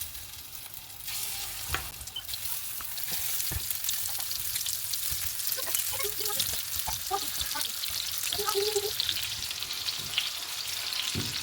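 Honey garlic chicken pieces frying in hot oil, a second batch added to the pan, giving a steady loud sizzle throughout with occasional stirring clinks and bubbling pops.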